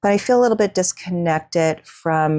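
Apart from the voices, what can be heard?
No everyday noises stand out.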